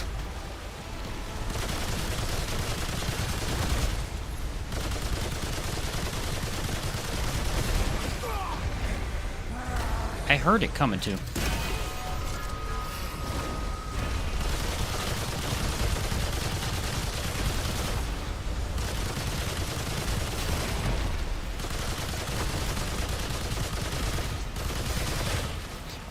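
Handgun fire in the video game Remnant 2 rattles almost continuously in dense, loud bursts, with game effects mixed in and someone briefly talking over it.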